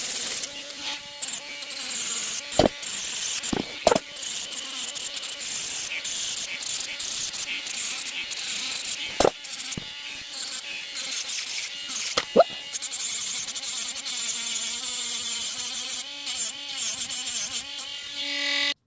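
A small rotary power tool fitted with a sanding bit polishes a 10 g copper ring, giving a steady high buzzing whine with wavering pitch, broken by a few sharp clicks as the bit touches the metal, close and continuous, with one brief exclamation.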